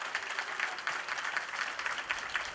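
An audience at a hospital peace bell ceremony applauds a Korean classical music and dance company, steady moderate clapping heard from a middle distance without voices.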